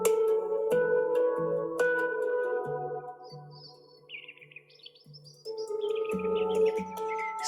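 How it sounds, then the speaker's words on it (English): Bird chirps and tweets in a nature background, small bright calls scattered over a sustained, resonant handpan melody that rings steadily throughout. "More nature sounds, ignore the birds."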